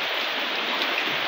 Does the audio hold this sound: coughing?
no